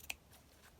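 Scissors snip through fabric while a junk journal cover is being trimmed at the folded edges, one short crisp cut standing out near the start over a quiet background.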